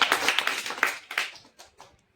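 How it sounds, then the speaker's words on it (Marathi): Children in a classroom give a short burst of scattered applause for a classmate, a quick patter of claps that thins out and fades within about two seconds, with no talking. "चल टाळ्या वाजवा तन्वीरसाठी"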